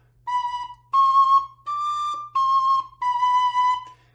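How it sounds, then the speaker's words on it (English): A high D tin whistle plays five clear, sustained notes in a short phrase, close and bright, with brief gaps between them. "I'll play it again for you on my other high D whistle"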